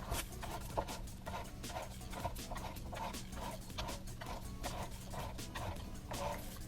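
A T-fal Comfort Safe Cut manual can opener works around a medium can, giving a steady run of quick, evenly spaced clicks and grinding turns at close range, with no talking.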